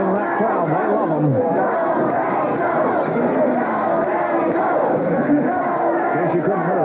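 A 1978 California wrestling arena crowd roars and cheers for Ray Stevens, a dense, loud and sustained wall of yelling voices with no break.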